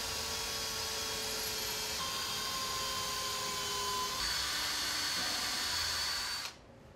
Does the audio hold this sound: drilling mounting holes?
yes